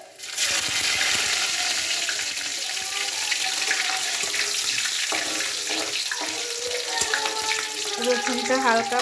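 Panch phoron spices sputter in hot oil for a green chilli pickle, making a loud, steady, close sizzle throughout with faint crackles and pops.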